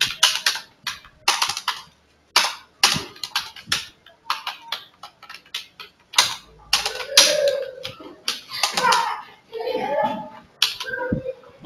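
Keys clacking on a computer keyboard while text is entered in MS Word, irregular bursts of close clicks with short gaps, partly overlapped by someone speaking.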